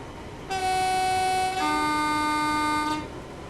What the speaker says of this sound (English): now we should be able to have a louder horn